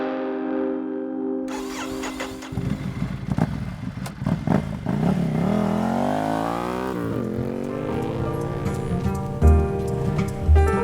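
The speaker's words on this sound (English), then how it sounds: "Just get on your motorbike and go for a ride." A motorbike ride along the roads of Baja, California, the engine revving and rising in pitch through the gears, loud and close, amid other layered sounds.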